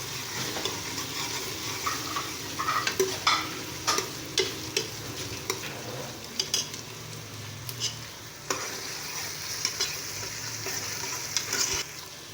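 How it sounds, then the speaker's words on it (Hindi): Garlic ginger paste fries in a pan, with a steady sizzle and repeated stirring scrapes and clicks from a spoon throughout, close and moderately loud, with no voices. "लहसुन अदरक का पेस्ट डालेंगे इसमें। और अच्छी तरह भूनेंगे इसको।"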